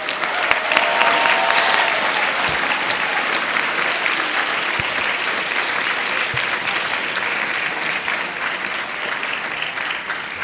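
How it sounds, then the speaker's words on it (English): Steady, enthusiastic applause from a school spring orchestra concert audience fills the hall, dense clapping from many hands holding at an even level for several seconds with no speech over it. "Please give them a big round of applause."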